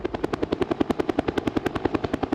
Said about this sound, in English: Above the debris is the constant hum of helicopters